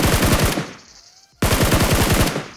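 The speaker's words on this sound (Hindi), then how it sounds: "और इधर के साइड से फायर हो रहा था" Rapid automatic gunfire in a battle royale video game: a loud burst of rattling shots, a short lull, then another sustained burst, with no talk over it.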